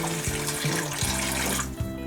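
Water poured into a pan of cooked masala while making a spiced colocasia (arbi) curry, a close, continuous splashing gush with a few bubbling surges that eases off near the end.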